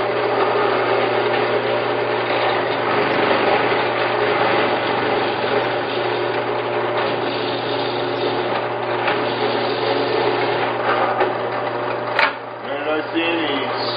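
A drill motor whines steadily at close range, running continuously with a slight change in pitch near the end.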